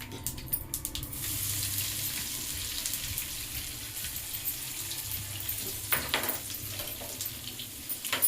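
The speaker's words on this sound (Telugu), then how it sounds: "వెల్లుల్లి ఫ్రై అవుతుంది" Garlic paste frying in oil with mustard seeds and cumin for chintakaya sambar gives a steady, fairly quiet hiss and sizzle with occasional sharper crackles and spatters, heard alone without talking.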